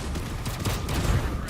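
Gunfire in the sci-fi strategy game Zero Space, a dense, rumbling fusillade of rapid shots that holds steady and loud through the short stretch.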